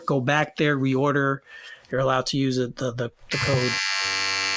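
A Manscaped Lawnmower 4.0 electric body trimmer switches on after a man's speech, giving a steady, bright, close motor buzz that holds evenly to the end.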